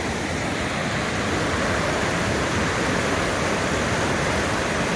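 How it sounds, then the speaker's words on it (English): A waterfall in the mountains beside a highway rushes in a steady, loud, broadband roar that stays unbroken and close throughout, with no voices. "So there's some waterfalls up here, guys."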